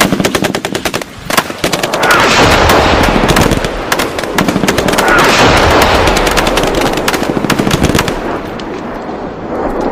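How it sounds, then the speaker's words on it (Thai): Heavy battle gunfire from many weapons outside, dense machine-gun bursts and shots layered into a loud continuous roar over a rumbling background that carries on for several seconds. "ผมฟังเสียงอาวุธนานาชนิดที่อื้ออึงคนึงอยู่ข้างนอก"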